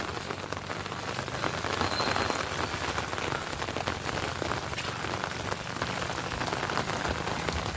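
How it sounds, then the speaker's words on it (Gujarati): Steady winter rain falls on the ground in rural Gujarat, a dense, even hiss of drops spattering close by with no voices. "આવી રીતનો વરસાદ છે કંઈક"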